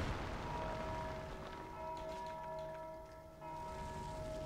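A bell in Dark Souls 2 rings out once and its tone lingers in a faint, sustained hum with a few overtones over low rumbling ambience.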